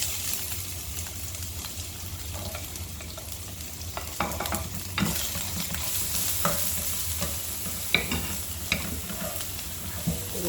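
Garlic sizzling steadily in a hot pan as it is stirred, a continuous hiss with scattered scraping and clinking strikes, no talking.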